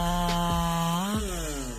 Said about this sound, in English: The Husqvarna 371 XP chainsaw emerges as a formidable force